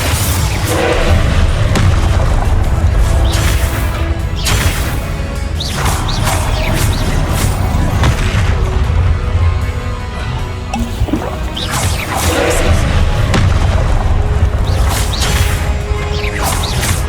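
Spell impacts and explosions crash and boom repeatedly in a Hogwarts Legacy duel, loud and dense with heavy low thuds, bursts and whooshing hits in quick succession.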